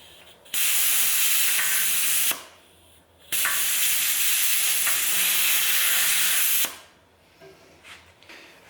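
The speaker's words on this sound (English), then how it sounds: "I can already hear a leak somewhere. Yeah, it's coming from the safety valve." Loud, close air hisses out of a leaking safety valve on a 10-gallon paint pressure pot in two long bursts with a brief pause between them, then fades to a quieter background.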